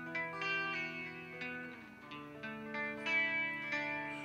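Clean electric guitar notes ring out in a slow melodic pattern, each pluck sustaining with a gentle shimmer, no voices present.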